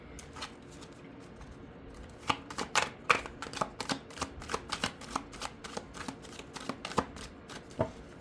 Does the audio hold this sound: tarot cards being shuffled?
yes